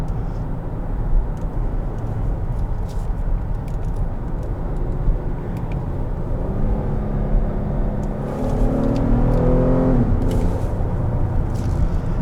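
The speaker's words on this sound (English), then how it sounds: "I'm floored right now in 4th gear." A 2017 Cadillac XT5 with the GM 3.6 engine at full throttle, held in 4th gear: a loud, steady engine drone builds in pitch over several seconds, rising strongly near the end, heard from inside the cabin.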